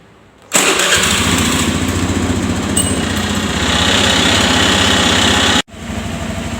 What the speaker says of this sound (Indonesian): hidupkan motor.